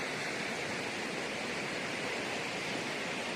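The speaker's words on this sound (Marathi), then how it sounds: "हे बघा, नदीला एवढं पाणी आहे आपल्या." Steady, broad rushing of flowing water, continuous and fairly loud with no breaks or voices.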